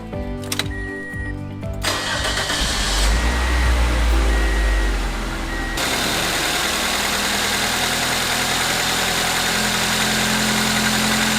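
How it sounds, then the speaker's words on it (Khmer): A car engine cranks and catches after a jump start, with a loud starter whir and surge, then settles into a steady, even idle that runs on alone. "អូខេបញ្ឆេះម៉ាស៊ីន"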